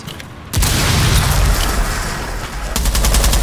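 A loud breaching blast in the Rainbow Six Siege video game bursts in, followed by a sustained rumble with rapid gunfire, then a second surge of close shooting near the end.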